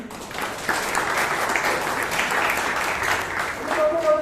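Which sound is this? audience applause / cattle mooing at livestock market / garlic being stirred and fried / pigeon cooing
audience applause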